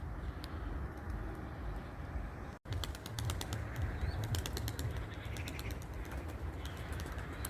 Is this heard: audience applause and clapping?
no